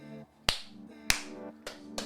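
Two sharp, loud hand claps about half a second apart ring out close by, followed by two fainter slaps, with a low hum underneath.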